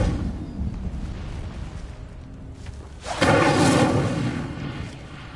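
A fiery Incendio spell cast in Hogwarts Legacy bursts out as a loud whooshing blast partway through, rising over a constant low rumbling game backdrop and then slowly fading.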